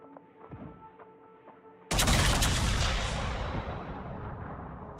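Naval gunfire in World of Warships: a quiet stretch of in-game ambience gives way to a sudden heavy salvo, loud and broadband, whose booming rumble slowly decays over several seconds.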